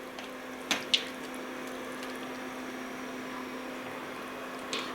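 A kitchen tap runs steadily as a strainer is rinsed under it, making a soft, even rush of water with a faint electrical hum and a couple of brief clanks from the metal.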